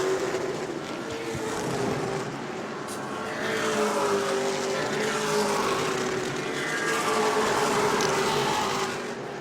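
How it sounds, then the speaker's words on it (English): Pro Late Model race cars circle a track at New Smyrna, a continuous roaring engine whine that rises and falls as the pack passes, fairly loud and distant-sounding with no speech. "12th place car in danger of going a lap down the lead of Brad May."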